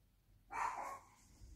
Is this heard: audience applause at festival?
no